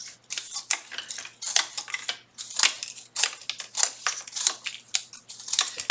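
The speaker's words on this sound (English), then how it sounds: "So cut a strip, and then just cut it into little pieces." Scissors cut a strip of material into small pieces, producing a steady series of crisp, close snips in an irregular rhythm, each sharp and bright, with no talking.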